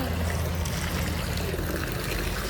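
Water poured from a makeshift container for washing clothes, a steady close, rushing splash that continues without a break for a couple of seconds.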